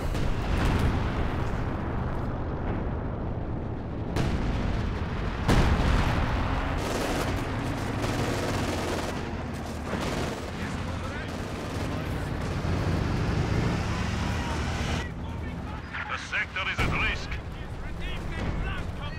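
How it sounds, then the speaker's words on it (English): Artillery barrage from a bunker-busting strike in the WWII strategy game Company of Heroes 2, with dense, continuous rumbling blasts and gunfire that stay loud and sustained throughout, thinning briefly near the end. "Bunker busting barrage going in on the middle. Doing some good damage."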